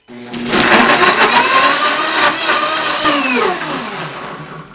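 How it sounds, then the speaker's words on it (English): A blender runs loudly on high, blending liquid ingredients for a spicy tomato sauce, a continuous whirring roar with slight shifts in pitch as the contents churn. "Next we're going to turn the blender on high."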